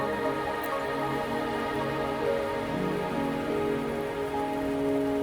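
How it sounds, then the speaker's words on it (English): Steady rain falls in the video game Wuthering Waves, a dense, even patter on surfaces with a soft musical score underneath, continuous and moderately close, with no voices. "Are you trapped here by the rain?"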